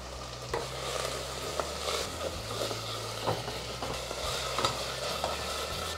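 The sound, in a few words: stirring white kuska masala while frying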